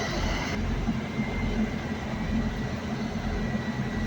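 Passenger train rolling on rails between Denton and Trinity Mills, a steady loud low rumble and rail roar heard from inside the car, continuous throughout with no talking.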